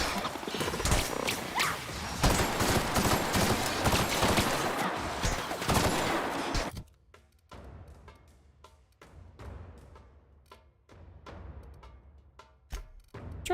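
Gunfire in The Outer Worlds Peril on Gorgon DLC against robot enemies: a dense, loud barrage for several seconds, then sparser individual shots and clanks over a quieter background.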